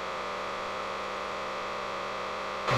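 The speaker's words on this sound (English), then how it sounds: "let's go ahead and turn on the hairdryer here" A hairdryer on warm heat and low setting, powered by a DIY solar generator, blows a steady, even whoosh of air with a faint low hum, running continuously at moderate volume, then briefly louder at the very end.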